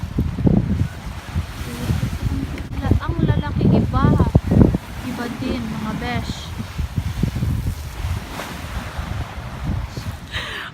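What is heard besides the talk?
rough sea waves and wind on the shore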